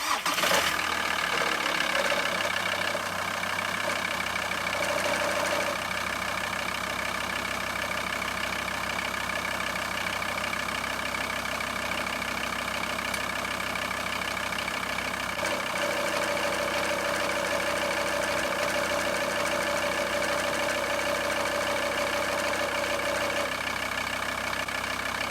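A van engine starting and then idling with a persistent vibration fault, a steady low drone with humming tonal bands and a faint shifting whine partway through, alone without talk.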